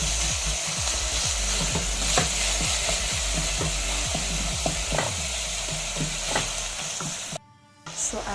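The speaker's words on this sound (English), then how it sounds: "So I've been stirring my meat for the past like 2 minutes and it is scattered perfectly" Minced beef fries in a pan for a stew, a steady loud sizzle broken by repeated scraping knocks of a spoon stirring the meat, with a brief drop in sound near the end.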